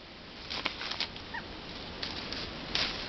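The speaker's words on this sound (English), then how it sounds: "There's a wild bird of some type." A wild bird calls out in jungle near Suicide Cliff, with a few short, faint chirps scattered over steady rushing background noise and no talking.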